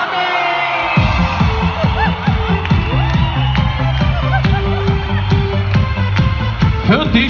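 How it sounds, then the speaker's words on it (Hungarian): Concert crowd at a Hungarian gig cheering, whooping and clapping loudly and continuously, with steady rhythmic claps and shouts close by and loud throughout. "És a taps!"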